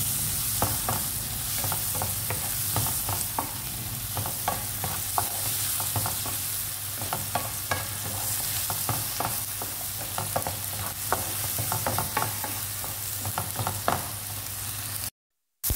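Onion and tomato frying in a pan while being stirred, a steady close sizzle with repeated scraping stir strokes throughout, no talking.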